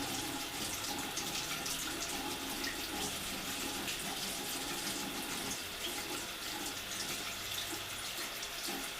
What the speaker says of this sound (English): Running it under the water